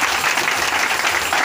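A church congregation claps together in steady, dense applause at an Easter service. The clapping is loud and continuous, with no gaps.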